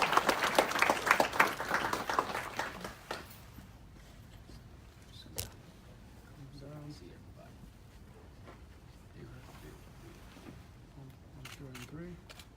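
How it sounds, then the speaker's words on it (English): Crowd applause at an outdoor community event, a burst of clapping for about three seconds that quickly dies away, followed by quiet outdoor ambience with scattered small sounds and faint voices. "Let's give these folks one more round of applause."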